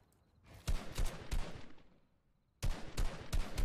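Gunfire in a Fortnite match: two quick bursts of sharp, close shots separated by a brief pause, the second burst starting abruptly.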